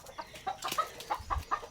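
Many chickens clucking nearby at a farm hut in the Philippines, short, irregular bursts, a few close calls with soft low thumps underneath.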